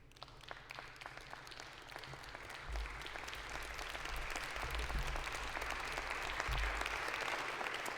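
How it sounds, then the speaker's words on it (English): Applause breaks out in a legislative chamber during an impeachment vote. Clapping swells and grows denser, heard at moderate volume over a low rumbling background. "Some cheap applause there"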